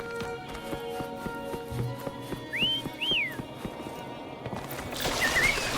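Horse hooves clip-clop in a steady rhythm, then whistled notes ring out and a horse whinnies near the end, with faint game music underneath, from the game Wuthering Waves.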